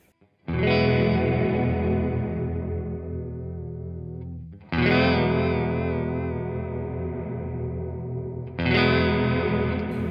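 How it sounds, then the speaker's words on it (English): Electric guitar chords through reverb and vibrato pedal effects ring out three times, each wash of sound thick with wobbling vibrato and lingering reverb, loud and sustained with no voices. "So as reverb decay increases, the vibrato decreases and vice versa."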